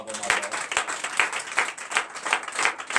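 Church congregation applauding during a Sunday worship service, dense continuous clapping from many people with a loud, close, rhythmic texture, and some voices underneath.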